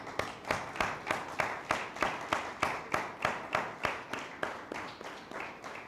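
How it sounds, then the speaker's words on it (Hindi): A church congregation claps in unison during a Sunday sermon, about three sharp synchronized beats per second in a steady rhythm that softens slightly toward the end, with no voices over it. "जिंदा यीशु के लिए जोरदार तालियां।"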